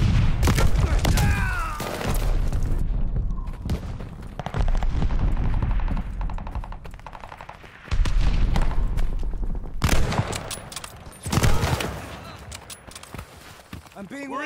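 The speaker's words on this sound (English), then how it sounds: "Watch it, stun grenade!" A stun grenade goes off in a shooting video game, heard as heavy booms and bursts of gunfire amid near-constant team chatter in a loud, chaotic firefight.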